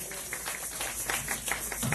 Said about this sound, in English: Let's give him a round of applause for gracing our function